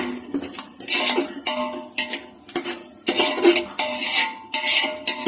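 Biryani masala being mixed in a pot brings repeated loud metallic clanks and scrapes of a spoon against the vessel in uneven bursts, close by, with a brief cough among them.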